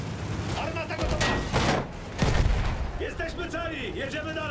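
Tank cannon fire in the video game Battlefield 1, heavy booming blasts and gunfire bursts across the clip, loud and close, with shouting voices in between.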